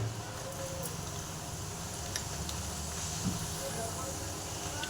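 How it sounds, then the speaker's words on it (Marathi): Mustard seeds and cumin sizzling in hot oil for a tempering, a steady broad hiss with faint crackles, constant and close, while preparing a red amaranth leaf vegetable dish. "तर तेल आपलं आता गरम झालेलं आहे. आपण याच्यामध्ये थोडीशी मोहरी टाकूया, पहा. त्यानंतर थोडंसं जिरं घालूया."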